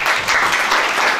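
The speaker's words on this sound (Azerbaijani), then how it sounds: "alqışlarınızla" Audience applause fills a school hall in Sumgait, steady dense clapping throughout a brief moment with no voices standing out.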